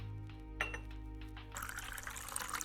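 In Zip's Cafe video game, water pours into an espresso cup, a bright liquid trickle that starts after a soft clink and continues steadily to the end, with no talking.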